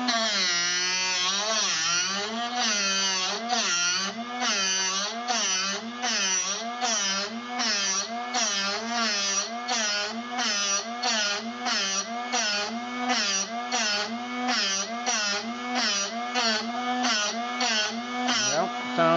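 A Drill Doctor 750X sharpener grinds a drill bit against its wheel at maximum aggressive setting, a steady loud motor whine pulsing in a fast regular rhythm throughout, with no voices.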